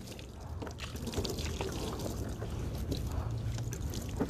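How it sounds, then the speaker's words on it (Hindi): Water poured over a body during Islamic ritual washing of the deceased, a soft continuous pouring splash at moderate distance, fairly quiet and steady throughout. "और सारा जिस्म पे पानी डाला जाए।"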